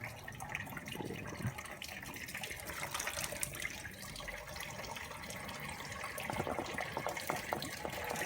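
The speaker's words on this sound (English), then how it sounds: "trickling out faster. I'm just trying not to get covered in antifreeze myself." Antifreeze coolant trickles and gushes from a Vauxhall/Fiat 1.3 CDTi diesel engine during a timing chain repair, a faint steady splashing stream into a drain pan with no voices.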